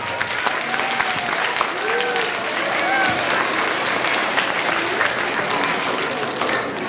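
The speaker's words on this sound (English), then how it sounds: "Give them a round of applause, please." Families and students applaud at a school Memorial Day concert, a full, continuous roar of clapping with a few cheers and voices mixed in.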